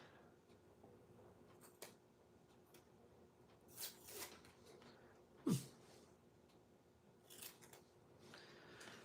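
Scissors snip through puppet-making material in a quiet room, a few soft, scattered cuts with a sharper snip in the middle, faint and close.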